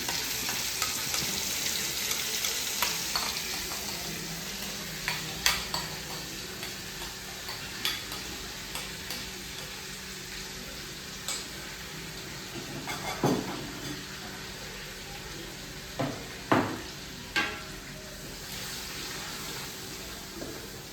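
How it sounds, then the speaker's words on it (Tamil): Ground onion and garlic paste sautés in hot coconut oil for a fish curry, a steady soft sizzle with scattered scraping stirs and clicks of a utensil against the pan, close and moderately loud, no voices. "வெங்காயமும் பூண்டும் சேர்த்து அரைச்சிருக்கோம், அதை இப்போ ஆட் பண்ணிக்கலாம்"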